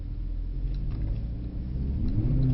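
Mercedes-Benz C63 S accelerating with a bit of wheel spin, a deep engine rumble swelling and rising in pitch toward the end, heard from inside the car with no talking.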